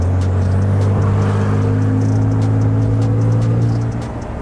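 A pink Porsche driving, its engine a loud, steady hum from inside the car that holds constant and then eases off slightly near the end, with no talking.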